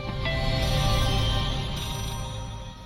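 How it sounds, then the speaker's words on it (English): A telephone rings in the Secrets of Salem game, a bright electronic trill sustained for a few seconds, loud and alone before it fades slightly. "So the phone just started ringing."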